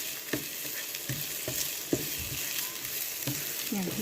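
Pieces of previously fried chicken being sautéed in a pan for sweet and sour chicken, a continuous close sizzle broken by several sharp spatula knocks and scrapes at irregular intervals.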